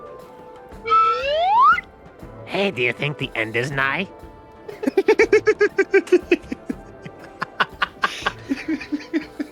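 A rising slide whistle swoops upward near the start of a podcast episode bumper, followed by springy boing-like effects and bursts of rhythmic chattering laughter, with a voice speaking briefly.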